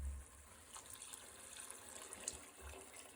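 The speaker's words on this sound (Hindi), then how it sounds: "अभी वो वाला पानी थोड़ा हम शामिल कर देते हैं" Water from boiled peas is poured into a pot of minced meat, a soft continuous trickle and splash of liquid, faint and steady with no talk over it.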